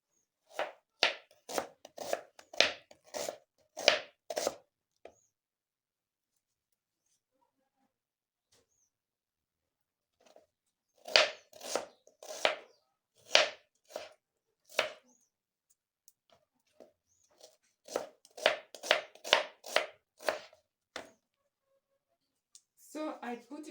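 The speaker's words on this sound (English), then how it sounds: "So I have to cut the onion first, the red onion" Red onion being chopped with a knife in an African village kitchen, with bursts of quick, sharp cuts in rapid runs, a pause, then further runs of chopping close by.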